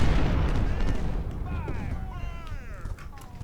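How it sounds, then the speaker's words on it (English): Cannon artillery fire from the Civil War strategy game Ultimate General: Civil War, a steady low rumble of distant booms lasting throughout, mixed with tonal game sound effects and a voice talking over it. "we do have 2 units of cannon"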